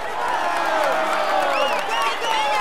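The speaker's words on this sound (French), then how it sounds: "Allez, on l'applaudit encore." A Tour de France crowd cheers and whoops with scattered clapping for the white jersey rider, a dense wash of many voices rising and falling together.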